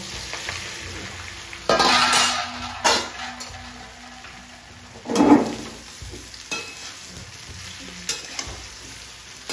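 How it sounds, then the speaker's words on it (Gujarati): Spices and sesame seeds crackle and sizzle as they are tempered in hot oil, with sharp bursts of popping and a few clinks of a pan between quieter stretches of frying. "વઘાર આવી ગયો આપણે મસાલો મુકાઈ ગયો"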